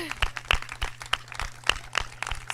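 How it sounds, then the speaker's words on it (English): Scattered, fairly faint hand claps from an audience at the Viola Elementary moving-up ceremony, the sharp claps arriving unevenly rather than as a full ovation. "Let's give a big round of applause."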